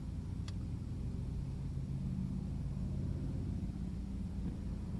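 A Lexus GS idles at a traffic light, a faint, steady low engine rumble with a brief click near the start and no speech.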